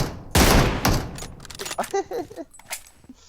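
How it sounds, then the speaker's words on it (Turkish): Automatic rifle fire from an MK weapon in the mobile battle-royale game PUBG Mobile crackles in loud bursts, first a heavy volley and then scattered shorter shots, close and sharp, mixed with faint game clatter. "Vurdum ben bir tane canını azalttım ona"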